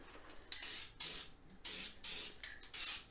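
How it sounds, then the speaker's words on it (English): Gray etching primer goes onto a Honda CBX engine during restoration as a light fog coat, with five or six short, close, loud hissing spray bursts separated by brief pauses. "I just put a real kind of a fog coat on there at first. And again, I'm using a etching type of primer, gray primer"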